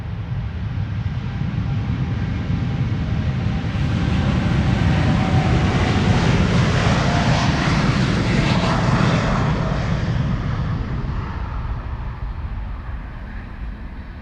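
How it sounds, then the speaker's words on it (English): A four-year-old KLM Boeing 787-10 Dreamliner, PH-BKK, departing Amsterdam Schiphol for Houston, its engines a loud, deep roar that builds toward the middle and then slowly fades, with no talking. "This is KLM Flight 661 to Houston in Texas. It's a 787-10 Dreamliner, the PHBKK."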